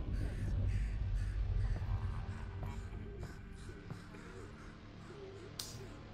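Crow-like caws from a bird in the VR game Half-Life: Alyx, sounding over a dense low rumble of game ambience, with a few scattered calls and a brief bright burst near the end.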